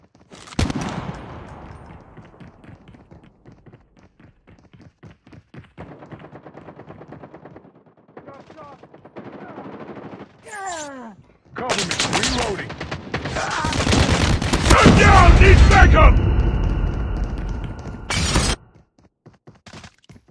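Rapid gunfire in a Call of Duty Mobile team deathmatch, with bursts of automatic fire and single shots alongside clicking mechanisms, rising to a dense, loud barrage before cutting off.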